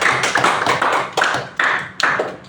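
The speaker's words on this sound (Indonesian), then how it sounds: "mari sama-sama kita beri aplaus dulu adik-adik sekalian" Students in a classroom applaud together, several bursts of dense clapping with brief dips between them, loud and close.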